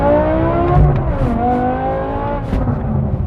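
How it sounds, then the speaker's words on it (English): A 2007 BMW M6 revs hard in first gear, its exhaust rising in pitch in two strong pulls with a brief dip between, loud and close, with a sharp crackle near the end. "listen to that exhaust"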